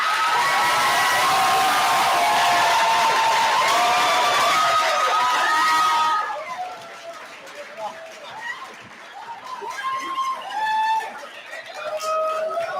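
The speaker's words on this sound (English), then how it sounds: "sincere applause for Luke, please." Crowd at a culinary school graduation ceremony cheers and whoops loudly for a graduate, a full roar of voices for about six seconds, then quieter scattered calls and shouts carry on.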